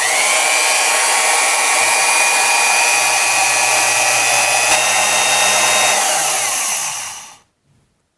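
A vintage 1950s Milwaukee S-114 Hole Shooter quarter-inch heavy-duty electric drill runs steadily at full speed with a loud, high motor whine and a faint pitch dip partway through, then spins down and stops near the end.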